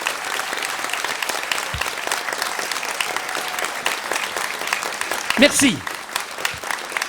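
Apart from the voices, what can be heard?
audience applause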